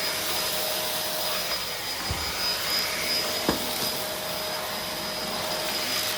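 A Kenmore Progressive DU2001 dual motor vacuum cleaner runs on hard flooring, giving a steady, loud whining roar with a high tonal hum and a couple of faint clunks as it moves.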